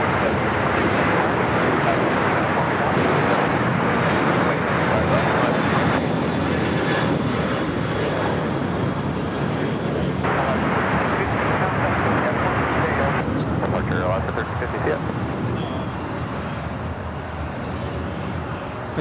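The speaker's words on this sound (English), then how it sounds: "Frontier Flight 3211 coming in from Dallas, Fort Worth, Klondike, the Polar Bear livery." A Frontier Airlines jet in the Polar Bear livery lands at LAX with a loud, continuous engine roar that stays steady throughout and fades slightly toward the end, with speech mixed in.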